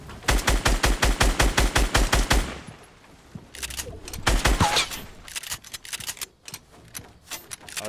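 Rapid automatic gunfire in the Fortnite video game, a fast regular burst of shots followed by a pause and then scattered, sharper shots and clicks, loud and near.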